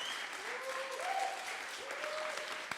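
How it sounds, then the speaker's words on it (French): An audience at a Paris data science demo day applauds the presenters of a project, steady moderate clapping filling the room throughout, with faint voices mixed in. "On applaudit Laurent, Arthur, Jean-Philippe pour le projet Forest Guard"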